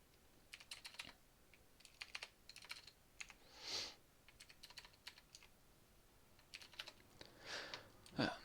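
Computer keyboard typing in short bursts of clicks, fairly faint and close, with a few heavier key taps between quiet pauses; no talking.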